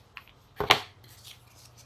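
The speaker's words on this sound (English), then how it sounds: "I would just maybe cut this down a little bit" Scissors cut paper for a craft project, with one quick, close snip of crisp blade noise in a quiet room.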